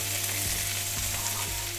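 Mushrooms and pickled cucumbers frying together in a pan for solyanka soup, a steady close sizzle with faint stirring scrapes throughout, no voices.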